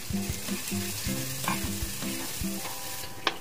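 Ground lentil paste fries in a pan with ginger and green chili paste, giving a steady close sizzle while a spoon stirs and scrapes through it.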